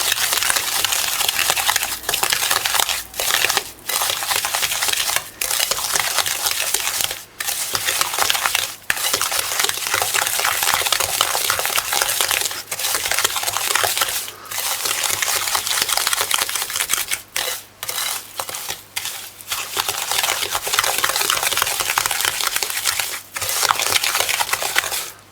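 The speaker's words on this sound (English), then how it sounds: "And once it's worked out like that, you just mix it in properly." Banana bread batter being mixed by hand in a bowl gives a dense, crunchy, gritty scraping that keeps going with brief pauses for about twenty-five seconds, loud and close with no voices.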